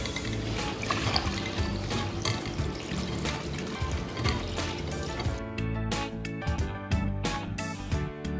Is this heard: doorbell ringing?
no